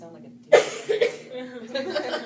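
A person coughs sharply a few times in quick succession, close by, followed by a rough breathy vocal sound.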